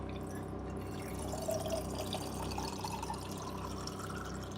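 Water runs steadily from the spout of a farm water container in winter, a continuous trickling and splashing stream heard close and alone under a low background hum.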